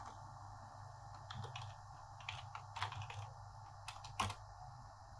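Computer keyboard typing on a Windows PC while entering a server command, a soft run of irregular key taps over a steady low hum, quiet and close with no talk.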